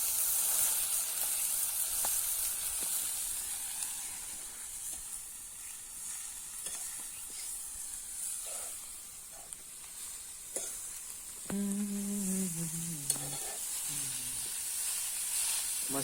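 Fresh chickpea leaves hitting a hot pan give a steady, soft frying sizzle that hisses throughout, with a few clinks of stirring near the end and no talking.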